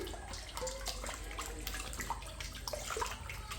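Food is rinsed under a stream of hot running water in a kitchen, making a soft, steady splashing rush that stays fairly faint throughout.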